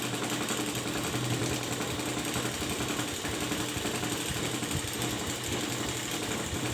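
A sewing machine running a line of stitching along a blouse margin, a continuous dense mechanical whir with a rapid needle rattle, steady and close with no pauses.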